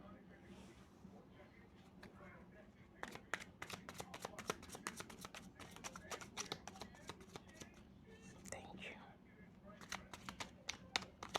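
A deck of tarot cards is shuffled and cards are drawn, giving a quick run of crisp riffling taps and slaps, close and fairly soft, with a voice talking in the background.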